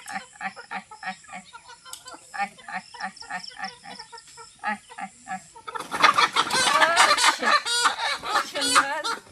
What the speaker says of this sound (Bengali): এবার কিন্তু আমার আর ছোট 4টে মুরগি ধরার বাকি আছে।